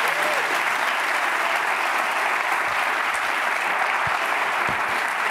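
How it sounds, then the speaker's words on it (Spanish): A late-night talk show studio audience claps loudly and steadily, a dense wash of applause that holds without pause. "Un aplauso para Lago Nichonga"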